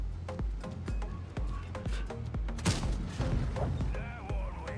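Tank cannon fire from a Strv 107-12 in the World of Tanks video game: a run of sharp, loud booming shots spread over a few seconds, mixed with other battle effects.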